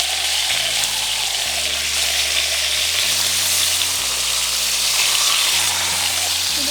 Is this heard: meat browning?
yes